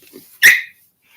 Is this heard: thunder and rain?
no